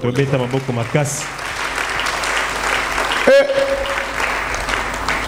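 A church congregation claps in a brief burst at the opening, after which a voice speaks over a dense, steady crowd murmur.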